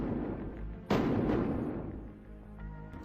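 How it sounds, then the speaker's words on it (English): A single sharp, loud shot from a .40 caliber pistol cracks out in a crime reenactment, then rings off in a long, fading echo over a low background rumble. "gunshots."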